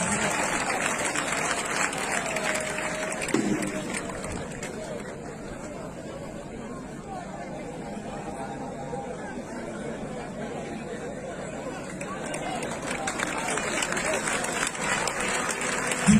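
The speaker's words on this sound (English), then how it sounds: "A round of applause for Abia Command." Crowd applause for the Abia State Command security officers at an Ojukwu Day gathering in Owerri, Imo, with clapping mixed with crowd chatter and babble, running steadily throughout and picking up again toward the end.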